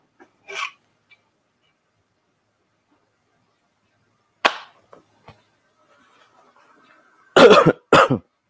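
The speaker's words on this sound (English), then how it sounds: "I didn't mean to cough at you guys" A few sharp coughs break the quiet, first an isolated one, then a pair of loud, close coughs near the end.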